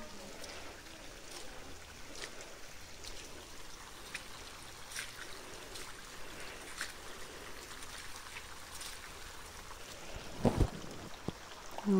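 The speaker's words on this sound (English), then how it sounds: "All these little streams." Small streams of water trickle and flow steadily over rock formations in a mucky natural area near Menomonie, Wisconsin, a soft continuous babble heard close by with a few brief splashes near the end.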